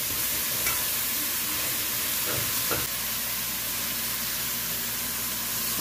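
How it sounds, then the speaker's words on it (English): Pumpkin and okra in a cooking pot sizzle with a continuous hissing, broadband frying sound, broken by a few brief scrapes of stirring, with no voices. "Give it a nice little stir up."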